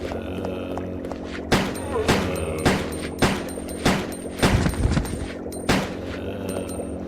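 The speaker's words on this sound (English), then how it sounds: "Love shooting at air and wasting ammo." Gunshots in Resident Evil Code Veronica X on Xbox 360, a run of about eight sharp, loud booming shots at irregular intervals over a steady low game ambience.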